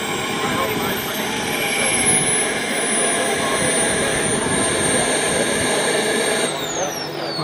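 A turbine-powered Viper Jet scale model aircraft at the Joe Nall 2025 event whines steadily as it comes in to land, its pitch slowly falling, while an announcer talks over it.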